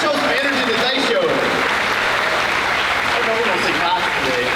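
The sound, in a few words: audience applause at convocation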